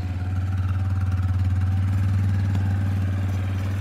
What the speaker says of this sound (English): I turned the idle up.